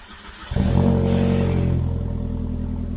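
A widebody Scirocco MK1's 1.8 liter engine cranks briefly, then fires and settles into a loud, deep rumbling idle through a single muffler, close by.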